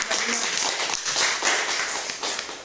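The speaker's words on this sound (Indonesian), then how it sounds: "Kita kasih tepuk tangan" A classroom gives a short round of applause, scattered hand claps at a moderate level, fairly close and uneven, with light voices underneath.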